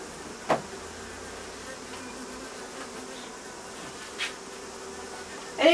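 A steady, dense buzz of many honey bees around a top bar hive fills the air close by, with occasional soft knocks and clicks over the hum.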